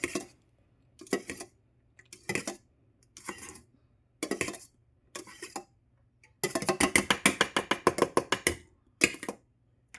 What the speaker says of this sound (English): So let's kind of mix them. Give it a good thorough mix.